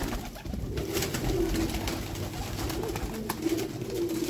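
Several teddy golden pigeons coo continuously in low, throaty rolling calls, close by and steady throughout, with some rustling and shuffling around them.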